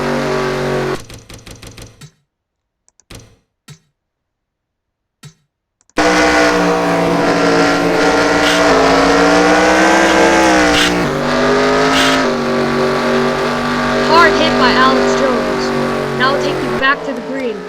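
Sim race truck engine from the onboard view in an iRacing-style truck series, a steady droning whine that rises and falls through corners over nearly twelve seconds after a short gap of silence, loud and continuous.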